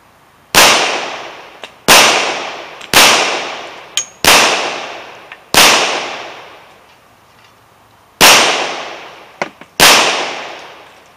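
.45 caliber handgun shots at an outdoor shooting range: six loud, sharp reports spaced one to two seconds apart, each with a long decaying echo, plus a few faint clicks between shots.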